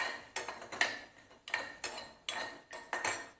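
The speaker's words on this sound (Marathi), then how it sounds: "कांदा भाजून घेऊया कांदा पण चांगला लाल होईपर्यंत परतून घ्यायचा आहे" Onion is stirred over a fairly high flame in a pan and fried until reddish. A utensil knocks and scrapes against the pan in a steady rhythm of sharp clinks, about two per second, with no voices.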